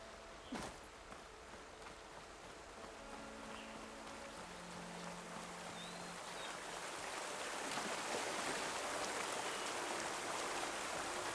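Rushing water from a waterfall in the video game Horizon Forbidden West, a faint, steady broadband wash that grows slightly fuller toward the end, with a sharp knock near the start and a few soft tones drifting through.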